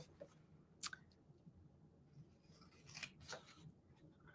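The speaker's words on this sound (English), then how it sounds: "This time I'm going to cut my corners out first." Scissors snip the corners off paper squares for a pinwheel fold craft: a few quiet, crisp cuts spaced apart over a low, faint background, close by and with no speech.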